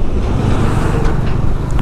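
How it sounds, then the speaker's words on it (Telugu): Strong wind roars in hard, continuous gusts into the microphone on a mountain road in Spiti Valley beside the Sutlej river, a loud rumbling buffeting with no voices. "విండ్ బ్లాస్ట్ ఘోరంగా వస్తుంది ఇక్కడ"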